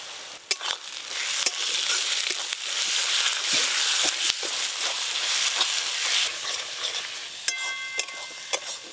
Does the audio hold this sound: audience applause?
no